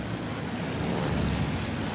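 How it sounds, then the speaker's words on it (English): Scout planes fly over the Pacific near the USS Enterprise at dawn in June 1942, a steady droning propeller-engine rumble holding at an even, moderately loud level throughout with no voices. "Scout planes search for the enemy carriers,"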